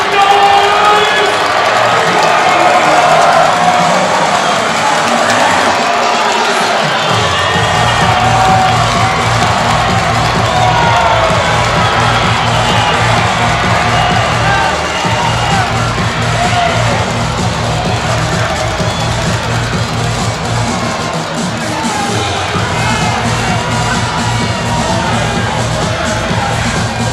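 At an indoor arena football game in Muskegon, a crowd roars with cheering and shouting for nearly half a minute, loud and continuous, with a steady low hum running beneath much of it.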